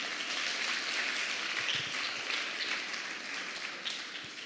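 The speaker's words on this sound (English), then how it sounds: "Let's give Avika another round of applause" A TED-Ed Student Talks audience claps for a student speaker, giving a dense, steady wash of applause that holds fairly level and eases off slightly near the end, with no talking over it.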